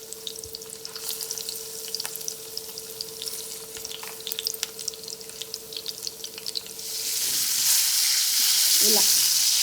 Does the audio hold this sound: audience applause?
no